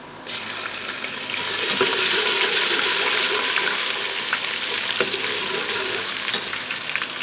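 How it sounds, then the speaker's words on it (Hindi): Steady, loud sizzling of onions browning in a pan for aloo gosht, a continuous crackling hiss with occasional pops and stirring clinks, no voices. "ये हमने प्याज ब्राउन होने के लिए रखे हैं।"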